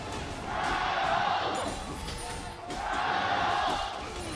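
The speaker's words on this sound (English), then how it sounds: "You can hear the audience cheering it because this is a very close game." An arena crowd at an Asian Games esports gold medal match between China and Korea cheers in two loud swelling waves, with game sounds and commentary underneath.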